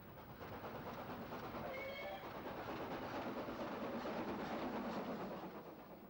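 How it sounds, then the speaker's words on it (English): A WD 2-8-0 steam locomotive heads north on a main line, heard as a steady, fairly faint rumble of a passing train with rolling wagon noise and faint squeals, no talking. "we find this WD-280 heading north"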